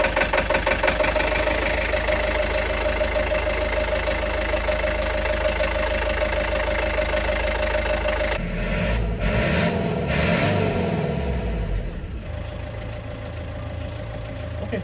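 A boat engine runs steadily on a Turkish vessel after its service, a loud continuous throbbing drone that shifts in character partway through, then carries on slightly quieter to the end.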